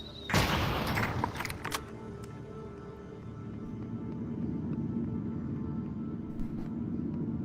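A sharp, loud blast from an exploding crossbow bolt in the VR game An Ancient Dungeon bursts out near the start, then fades into a rumbling tail and a low ongoing game ambience.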